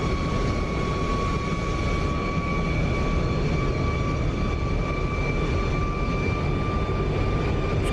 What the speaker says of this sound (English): That's similar to the howl of the F-104